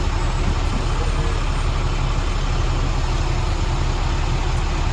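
A truck's diesel engine idles steadily inside the cab during a CDL Class A inspection, giving a constant loud low rumble with no speech.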